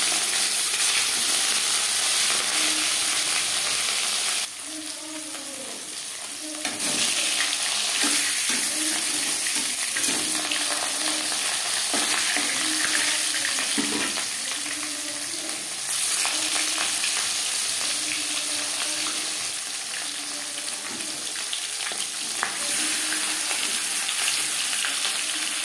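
Fish marinated in salt and turmeric frying in hot refined oil, a loud continuous sizzle and crackle with scraping of a spatula in the pan, no voices.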